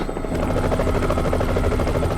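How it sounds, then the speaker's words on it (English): Helicopter flying in a Resident Evil: The Umbrella Chronicles cutscene: a loud, steady rotor chop with rapid, even blade thumps over an engine drone, close and heard alone. "Barry's flying the helicopter"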